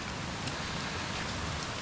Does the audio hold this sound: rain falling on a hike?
yes